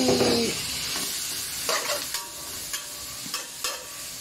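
Fatty pork dropped into a hot pan for lumpia sariwa sets off a steady, close hiss, broken by a few sharp clinks and scrapes of stirring.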